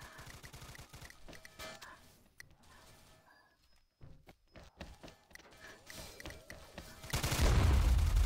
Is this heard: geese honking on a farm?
no